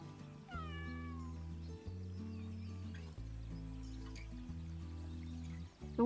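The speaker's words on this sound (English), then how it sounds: "Best thing about this game is the cat." A cat in a garden simulator video game meows a few times, clear and close, over steady sustained background music tones.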